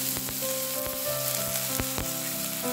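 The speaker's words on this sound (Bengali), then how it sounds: "এবার ঘিয়ের মধ্যে মুগ ডালটাকে একটু ভেজে নেব।" Mung dal fries in melted ghee in a kadai, giving a steady, close sizzle with sharp crackles and pops throughout, and no voices.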